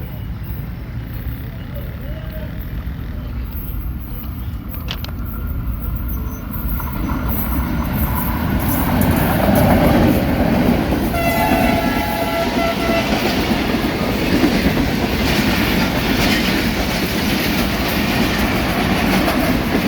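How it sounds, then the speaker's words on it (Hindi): A 1155 Musa Pak Express train hauled by an AG30 locomotive arrives on the Multan to Lahore run, its rumble swelling steadily with a sustained horn tone midway, then continuing as a loud, close rolling clatter of wagons. "फाइनली दोस्तों AG30 धूल उड़ाता आ रहा है। 1155 मूसा पाक एक्सप्रेस मुल्तान से लाहौर।"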